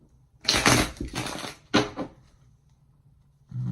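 Tarot cards riffle and ripple in two quick bursts, followed by a shorter shuffle, close and fairly loud against a quiet background.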